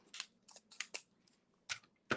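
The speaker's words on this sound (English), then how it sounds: "I'm going to grab my scissors." Scissors snip through wired ribbon in a series of short, crisp cuts, four quick snips followed by two more after a pause, close and quiet with no talking.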